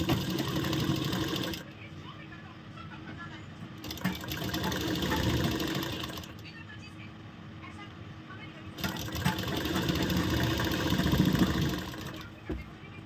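A sewing machine stitches a ladies' shirt, running in three steady bursts of a few seconds each, separated by quieter pauses, with a voice talking over parts of it.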